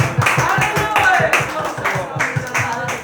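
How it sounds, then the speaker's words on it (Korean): Rhythmic unison clapping from a church congregation during a worship service, steady beats roughly every quarter second, loud and sustained with voices mixed in. "하나님께 영광의 박수를"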